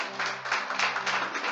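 Congregation applauding during a Pentecostal church service, dense steady clapping from many hands over a low sustained tone, loud and continuous throughout.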